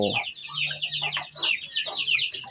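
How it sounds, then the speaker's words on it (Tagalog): Chickens and turkeys cluck and chatter close by while pecking at food, in quick, overlapping bursts, with a low steady hum underneath. "Sasaluhin po yan ng ating mga alagang manok at pabo"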